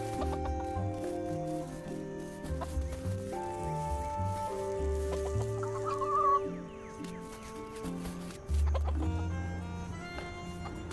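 Chickens clucking in the farming video game Dinkum, layered with a busy game soundtrack of steady tones and chimes, the bird calls short and mixed in rather than standing alone.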